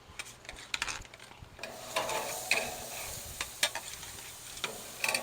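Kobe beef cheeseburgers cooking on a grill, a soft steady sizzle beneath scattered ticks and light clicks of handling, fairly quiet and close with no voices.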